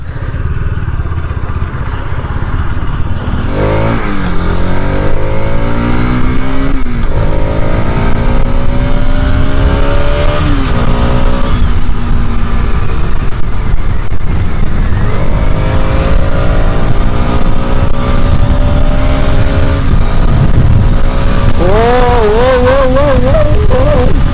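A Bajaj Pulsar RS 200 motorcycle accelerates hard through several gears, each climbing whine dropping at the shift, its loud engine right at the rider under steady wind noise.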